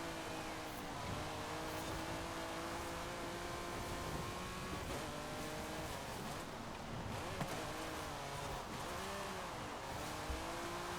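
A race car drifting in Forza Horizon, its engine droning and revving continuously with wavering pitch as the car slides, steady and dense throughout.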